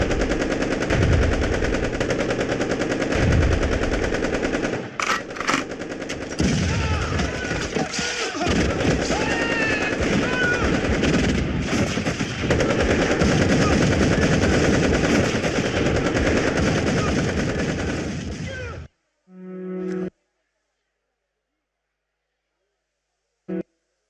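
Blank rounds fired during a staged skit set on April 13, 1919: rapid, loud, sustained machine-gun-like bursts rattle on for about nineteen seconds, then cut off, with a last short pop afterward.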